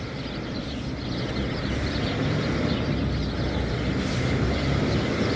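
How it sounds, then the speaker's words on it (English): A big truck driving by on a Toronto city street, a loud broad rumbling roar that grows slightly as it passes close, drowning out other sounds, with no talk. "Of course, the big truck has to go by and drown out all the bird noises."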